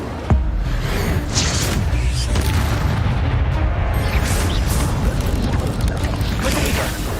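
An Incendio fire spell cast in the Hogwarts Legacy video game bursts in with a sharp onset, then a loud, dense, roaring blaze holds steady to the end.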